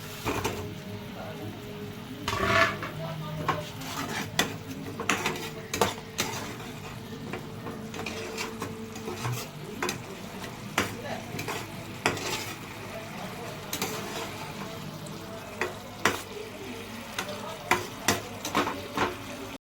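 Pomfret fish pakoras frying in a pan, with a soft continuous sizzle broken by frequent sharp clicks and scrapes of a utensil, quiet and close, with a faint voice now and then.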